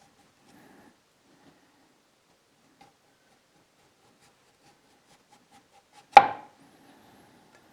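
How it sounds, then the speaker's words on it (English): A knife cuts a single straight slice through kohlrabi on a cutting board, one sharp, close chop that stands out against near silence. "let's see if we can do a better job with the knife. We'll cut a straight slice first."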